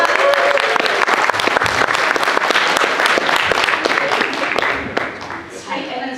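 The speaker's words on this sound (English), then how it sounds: "Big round of applause." Loud, crisp applause and cheering from a Fan Expo Chicago panel audience, sustained for several seconds before tapering, with voices emerging near the end.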